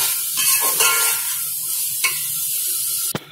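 Water poured into hot, sizzling masala in a pan gives a steady hiss and sputter of steam, with a few sharp clinks of a utensil.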